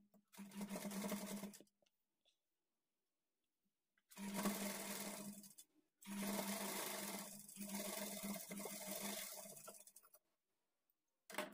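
A domestic sewing machine stitches a lined blouse's folded edge in three bursts of steady motor whirring and needle chatter, separated by short pauses and quiet handling.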